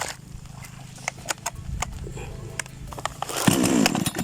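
A Krathing Dam 58M chainsaw engine runs close by during tuning, with a rough putter and rattling clicks, then opens up into a louder, higher revving whine near the end.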